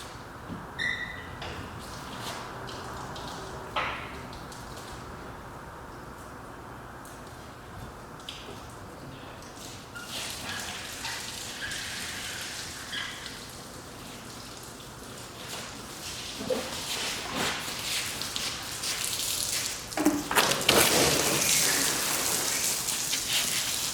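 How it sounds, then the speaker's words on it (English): A hose sprays water over a car to rinse off iron remover, a steady hiss and patter like rain on the bodywork that grows louder and denser toward the end. "Let's rinse this off really, really well."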